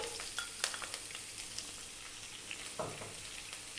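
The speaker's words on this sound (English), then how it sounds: "And then to that we're going to add our onion" Onion fries in hot oil over high heat, making a soft, continuous sizzle with scattered pops and light clicks of stirring, fairly quiet and alone.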